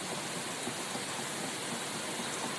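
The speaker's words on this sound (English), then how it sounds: "I'm going to saute these until they're nice and fragrant" Whole cloves, fenugreek and cardamom seeds sauté in hot fat in a pan, giving a close, steady, dense sizzle with fine crackling that holds evenly throughout, with no voices.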